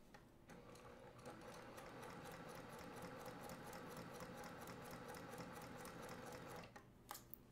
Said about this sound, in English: Always sewing on the line.